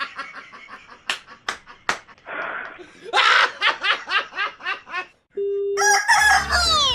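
Rapid cackling, chuckling bursts build into a loud, drawn-out rooster crow at the end, punchy and close like a comic sound effect.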